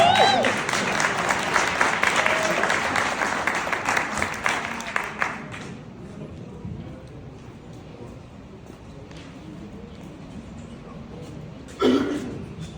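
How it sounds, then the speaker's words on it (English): A round of applause from an audience at a Black-owned rooftop steakhouse event, dense for about five seconds and then tapering off into murmurs, a cough and a few stray claps. "let's give a round of applause"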